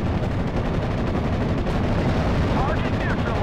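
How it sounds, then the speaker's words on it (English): A mortar carrier fires in the Steel Division: Normandy 44 war game on the Omaha map, with dense, loud gunfire and blasts rolling continuously over the battlefield. "My mortar carrier is still firing away, just trying to pin down some of the enemy infantry with that mortar"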